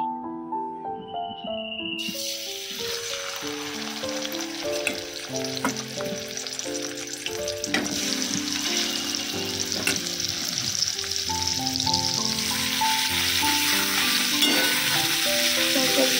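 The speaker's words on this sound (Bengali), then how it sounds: "আর আমি এদিকে মাছ ভাজছি" Fish frying in a pan gives a steady sizzle that swells after the first couple of seconds, with background music playing over it throughout.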